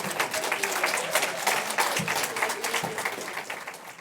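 An awards event audience gives sustained, dense applause in a large room, steady and moderately loud before tapering slightly at the end, with no talk over it.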